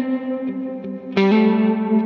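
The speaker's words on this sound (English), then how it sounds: "Do you hear how it takes that 100 milliseconds before the reverb comes in" An electric guitar note runs through a Line 6 Helix dynamic plate reverb with 100 ms pre-delay, a sustained distorted tone with a brief break and then a fresh strike that rings on under a smooth tail.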